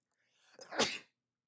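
A single sharp human sneeze, close and fairly quiet, starting with a brief soft intake of breath and then bursting out before silence.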